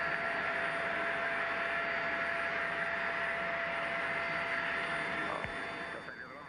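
Sea King helicopter hovering over the sea on autopilot during a rescue hoist, a steady droning rotor and turbine noise with a constant tonal hum, easing slightly near the end.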